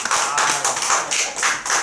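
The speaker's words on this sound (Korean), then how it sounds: "할렐루야 박수 한번 쳐주세요" Korean church congregation at a revival meeting breaks into hearty clapping, a steady burst of many hands pulsing in waves for about two seconds with no talk over it.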